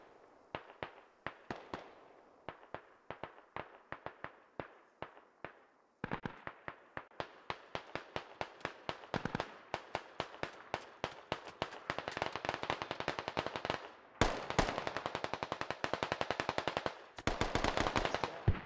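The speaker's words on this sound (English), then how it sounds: "looks like the BTR might have shots on some far contacts here" Rapid bursts of automatic gunfire from a BTR armoured vehicle in the game Squad, aimed at distant targets. The bursts are loud and clipped and come in dense strings that grow heavier and more continuous toward the end.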